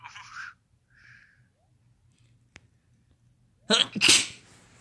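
A single sharp sneeze bursts out near the end after a few quiet seconds with faint breathy sounds, close and loud.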